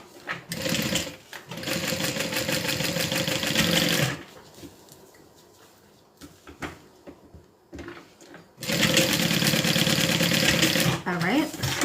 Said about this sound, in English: now we're going to open this up and we're going to do a top stitch just like we did for the interior